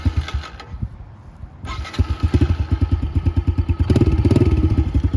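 A 2023 Honda CRF 110 dirt bike engine cranks briefly, catches and settles into a loud, close, rhythmic thumping idle that steadies and grows slightly stronger, with no talk over it.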